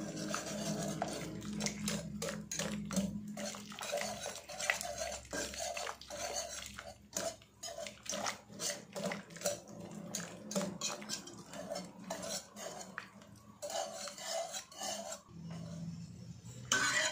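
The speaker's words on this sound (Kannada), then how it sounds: "ಟೊಮೊಟೊ ಎಲ್ಲ ಸ್ವಲ್ಪ ಸ್ಮ್ಯಾಶ್ ಮಾಡ್ಕೊಳ್ಬೇಕು" Cooked tomatoes are mashed inside a pressure cooker with a metal utensil. Rhythmic scraping and rasping strokes knock against the pot in a steady series, fairly quiet and close, with no talking.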